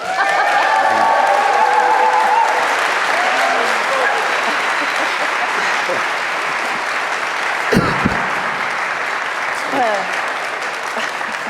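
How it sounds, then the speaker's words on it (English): Sustained applause from the audience at a Milan menswear runway show, dense and steady clapping throughout with a brief voice near the start, lasting many seconds at an even level. "I think we should have a little applause."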